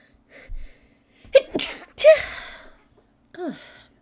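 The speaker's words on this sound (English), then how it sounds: "I need to sneeze." A single sharp sneeze bursts out after a few sharp breaths, followed by a short vocal sound at the end, in a quiet room.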